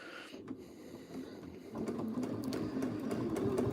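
A sewing machine stitches during free motion quilting around an appliqué, a quiet mechanical whir that picks up into a steadier, faster hum partway through, heard alone without talk.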